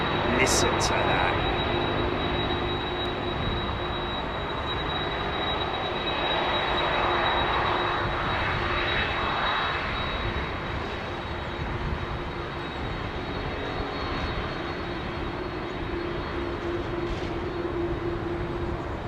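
Boeing 787 with Rolls-Royce Trent 1000 engines at London Heathrow, a loud, sustained jet engine roar with a faint high whine, heard at a distance while people talk over it.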